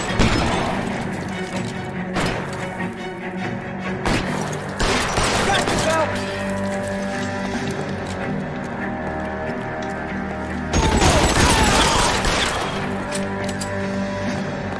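Shotgun blasts in LA Noire, loud booming shots at irregular intervals with a heavy cluster near the end, over continuous game noise and music.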